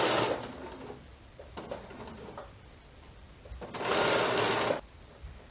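A sewing machine runs in short bursts while stitching gathered t-shirt dress fabric, with pauses between runs and a longer, louder burst near the end.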